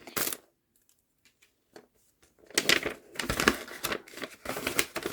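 Crinkling of a small paper gift package being opened, with sharp crackly rustles starting and stopping, a quiet pause with faint ticks, then a longer run of close, loud paper crumpling and tearing.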